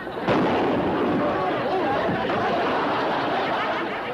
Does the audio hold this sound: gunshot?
yes